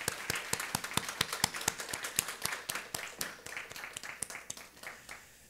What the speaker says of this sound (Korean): 우리 교회를 지금까지 지켜주신 하나님께 감사하는 박수, 또 우리 수고하는 모두를 위한 격려의 박수 한번 부탁드리겠습니다